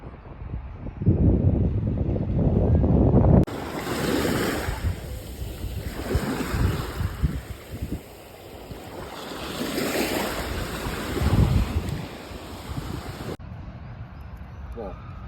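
Ocean waves wash onto the beach at Tangier, Morocco, a broad rushing surf mixed with gusting wind buffeting the microphone, loud and continuous with swells rising and falling.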